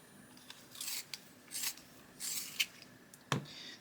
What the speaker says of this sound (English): Yeah, I'm going to use this white instead. Just sharpen it.